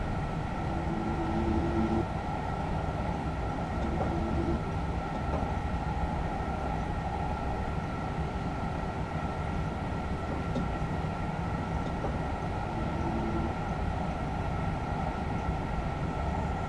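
Steady rolling roar of a special KLM Thalys high-speed train cruising at 300 km/h on a high-speed rail line in Train Simulator 2020, with constant drone and faint intermittent tonal hums, no voices.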